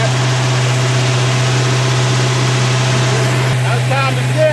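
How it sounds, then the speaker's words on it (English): A 1970 Dodge D100 truck engine with a swapped cam idles steadily with a deep, even rumble and constant hum, fairly close and loud throughout. "it's sounding good. Exhaust sounds good. Engine sounds good."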